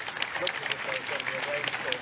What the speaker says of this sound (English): Applause from the staff and the colleagues who have been with him for the last 6 years